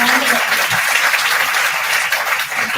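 A conference audience at Maris Stella College in Vijayawada breaks into sustained applause, dense steady clapping filling the hall with a few murmured voices underneath.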